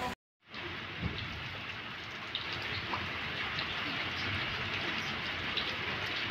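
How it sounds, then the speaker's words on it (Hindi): Steady rain pours down in Karachi, a dense continuous hiss with scattered droplet ticks, close and fairly loud after a brief silent moment at the start. "आज अचानक से सडनली बारिश आ गई है"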